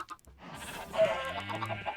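A video game chicken clucks after being struck by a damaging projectile. It is a short, close burst of squawking that starts after a brief click and lasts under two seconds.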